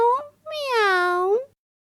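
A human voice imitating a cat's meow, two drawn-out meows in a row, the first short and the second longer with a rising then falling pitch, close and clear against silence.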